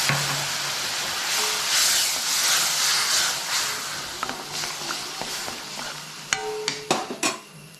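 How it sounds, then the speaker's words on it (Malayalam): A continuous hissing bubble of Indian gooseberry pickle mixture boiling with water and turmeric in a pot, joined near the end by a few sharp metallic clinks of utensils. "നന്നായിട്ട് തിളച്ച് വരുന്നുണ്ട്"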